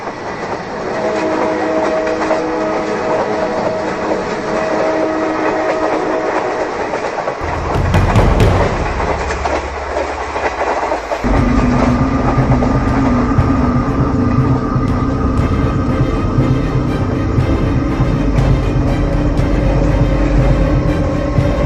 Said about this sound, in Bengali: দূরে ট্র্যাক দিয়ে ট্রেন যাচ্ছে